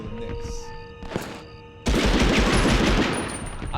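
Dense burst of automatic gunfire and explosions in the World War II shooter Medal of Honor Underground, erupting loudly after a quieter stretch of game ambience and music and continuing as a sustained, rattling volley.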